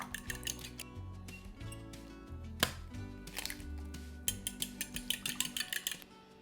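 Three eggs whisked into banana batter in a bowl, a quick mix with rapid metallic clinks and taps of utensil against the bowl, close and fairly quiet, with a clattering burst near the end.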